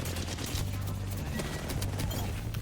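Rapid gunfire in Apex Legends crackles in dense bursts of quick, moderately loud shots over a low steady game hum, with no voices.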